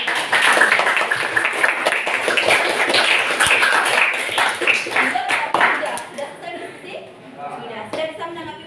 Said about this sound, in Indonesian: Beri tepuk tangan untuk kelompok kedua